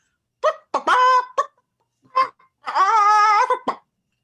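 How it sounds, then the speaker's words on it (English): A handheld squeaky toy is squeezed in short, shrill bursts, close and loud, with a couple of quick squeaks, a pause, then one long drawn-out squeal and a final short chirp. "I introduce you to my friend, Mr. Squeaky"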